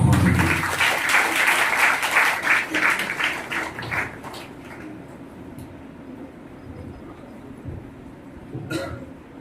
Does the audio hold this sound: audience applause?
yes